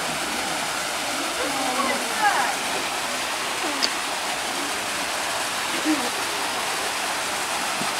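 Steady rushing of a waterfall near Gelendzhik fills the background, constant and moderately loud, with a few faint splashes and brief sounds over it.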